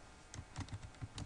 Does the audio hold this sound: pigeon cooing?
no